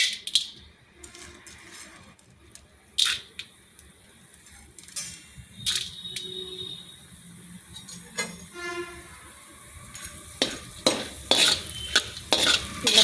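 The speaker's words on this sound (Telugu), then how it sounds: "ఒక 4 స్పూన్ల పచ్చెనపప్పు అయితే వేసుకుంటున్నానండి" Chana dal frying in a little oil in a large kadai, a soft sizzle with scattered scraping stirs and clinks that grow busier toward the end, fairly close and quiet, with no talk.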